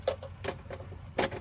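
Car keys jangle in a few short metallic bursts while getting set to drive to Walmart before camping on Jekyll Island, with quiet low engine hum beneath and no talking.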